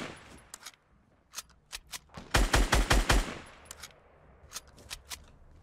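Gunfire in the Fortnite video game: scattered single shots, then a rapid burst of five or six loud rounds near the middle, with more sporadic shots afterward.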